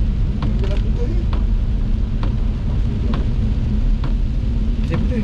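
Steady, dense hiss of heavy rain at night with a low rumble underneath and occasional sharp taps, continuous and fairly loud throughout.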